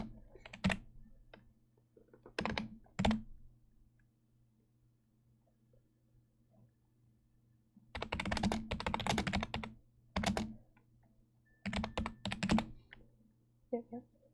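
Fingers tap on a computer keyboard in several quick, close bursts of clicky keystrokes, separated by pauses of near silence.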